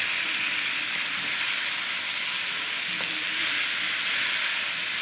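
Chicken browned to golden in a pan fries with finely chopped tomatoes just added, giving a steady close sizzle and hiss throughout, with faint stirring and no talk.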